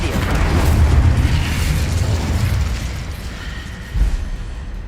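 Incendio fire spell cast in the Hogwarts Legacy video game, a loud, sustained roaring whoosh of flame with a low rumble, easing off slightly before a brief burst near the end.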